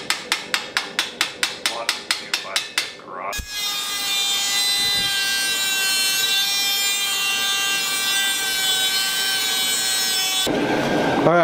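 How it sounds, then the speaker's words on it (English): Dremel rotary tool cutting the sleeves off old ball joints, opening with a quick series of sharp rhythmic bursts, then a loud sustained high whine while cutting, ending in a short burst. "after some Dremel action to get the sleeves off of the old ball joints"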